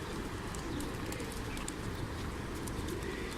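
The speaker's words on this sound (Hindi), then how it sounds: "माशाल्लाह बहुत ज़्यादा कबूतर है" Pigeons cooing in a low, murmuring chorus amid a busy outdoor hubbub near the Grand Mosque in Makkah, Saudi Arabia, with scattered higher chirps over the steady background.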